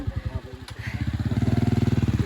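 A motorcycle engine on a mountain hiking trail on Mt. Pulag, chugging in a rapid, even throb that grows louder and steadier as it draws close, with no talk over it.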